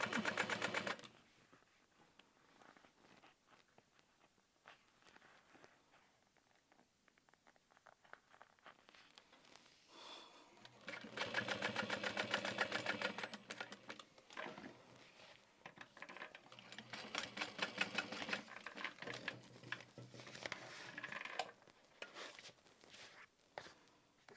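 A sewing machine stitches a bucket bag, starting quiet and sparse, then running in longer loud bursts of rapid, even needle clatter from about ten seconds on, close by and with no talking.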